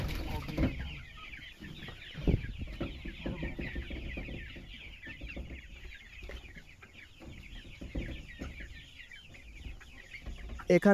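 A flock of colour bird broiler chickens on a poultry farm clucking and chattering continuously, with some louder squawks near the start and end; fairly close, no clear speech.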